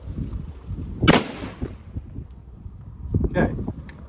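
Shotgun fired on its second trigger outdoors, one sharp close blast with a decaying tail followed by a second fainter report, amid wind noise and voices talking.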